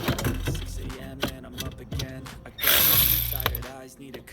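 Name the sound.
ratchet removing Altima steering column screws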